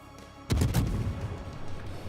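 A cruiser's guns fire in a World of Warships naval battle, a sudden booming salvo with several quick overlapping blasts followed by a rumbling decay.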